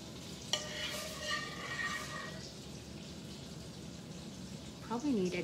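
A spoon stirs gravy in a pan, making a soft, low bubbling and scraping close by, with a brief clink near the start and quiet rustle throughout.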